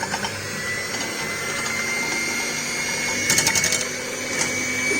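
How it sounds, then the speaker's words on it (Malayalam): Eggs being beaten for cake batter with an electric mixer give a continuous whirring hum with faint rattling, close and steady throughout. "ഇതൊരു സ്വിർലിംഗ് മോഷനിലാണ് ബീറ്റ് ചെയ്യാൻ."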